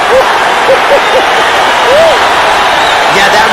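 Crowd at a fight event roaring after a knockout, a loud continuous wash of cheering and shouting with whistles and higher calls rising over it throughout.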